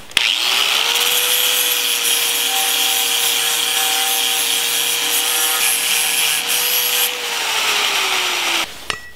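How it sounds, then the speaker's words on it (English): A flap wheel on a power grinder strips paint from a Renix intake manifold, whining at a steady pitch with a loud, harsh abrasive rasp that holds near-constant before spinning down at the end. "So the first step will be to grind the paint off with the flap wheel."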